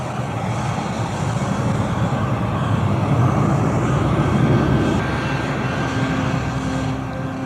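Aircraft and vehicle traffic at Comalapa Airport, a steady loud engine drone with rumbling ground traffic blended in, continuous and without pause.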